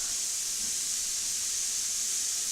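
Garlic hits a hot pan already holding onion and pepper for a lasagna sauce, giving a steady, even sizzling hiss that runs unbroken throughout with no voices.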